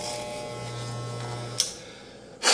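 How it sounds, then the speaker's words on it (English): Wet/dry electric shaver running on two AAA batteries, a faint steady buzz trimming a beard, cutting off partway through, then a couple of sharp handling clicks. "It's a wet, dry electric shaver."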